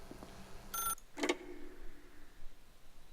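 In The Stanley Parable, a video game, a telephone rings in two brief bursts, a clear ring followed by a shorter one, with quiet afterward.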